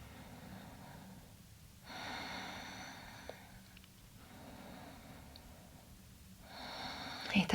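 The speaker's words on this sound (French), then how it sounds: "Je respire profondément" Slow, deep breaths drawn in and out during a half-cobra pose in a beginner Hatha yoga session, three long broad breaths spaced a few seconds apart, close and soft against quiet room noise, no talking.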